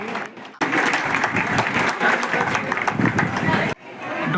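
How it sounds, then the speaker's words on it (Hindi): Audience at an awards ceremony bursts into loud, dense clapping that starts abruptly and runs for about three seconds before cutting off, with a little crowd murmur around it. "एक बार जोरदार तालियां बजाएंगे।"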